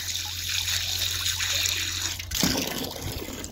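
Tap water runs in a steady splashing stream in a farmhouse during potato planting, with a low hum that cuts off partway through.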